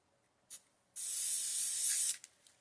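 Loctite spray adhesive hissing from an aerosol can onto a 30 ounce tumbler: a short puff, then a steady spray lasting about a second, then a few quick bursts, close and clear with no talk.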